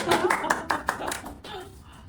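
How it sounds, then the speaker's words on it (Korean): A small group claps hands at the start of a study session, a brief run of sharp, close claps that quickly thins out and fades. "박수 한번 치고 시작해볼까요?"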